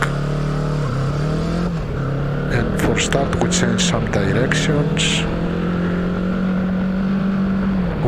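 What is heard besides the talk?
QJ Motor SRT700 motorcycle engine while riding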